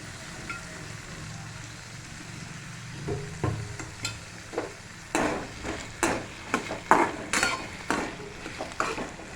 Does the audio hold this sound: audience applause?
no